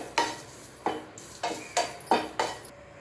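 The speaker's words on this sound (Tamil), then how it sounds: "கறிவேப்பிலையும் நம்ம நல்லா வறுத்து எடுத்துக்கலாம்." Curry leaves dry roasting in a pan for idli podi, stirred with a utensil in about six distinct scraping, rustling strokes spaced at a steady rhythm, close and moderately loud with no talking.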